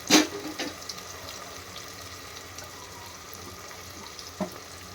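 Ginger garlic paste hits a hot pan for a chicken curry with a brief loud sizzle, then settles into a steady, fairly quiet frying hiss.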